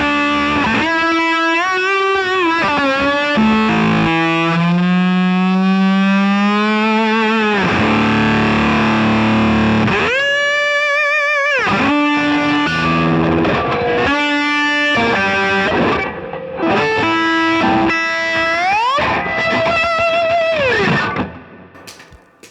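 Electric guitar driven through an engaged OCD overdrive pedal, played with a heavily saturated, sustained tone: bending lead notes, slides and ringing chords that run continuously and loudly with no talking.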